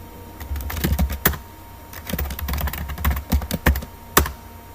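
Close, steady keystrokes clatter on a computer keyboard in quick irregular bursts, with a few sharper key taps standing out, and no voices.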